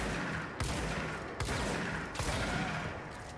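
Gunfire in the Control video game, a steady rattle of close shots with a few sharper heavy bursts punctuating it.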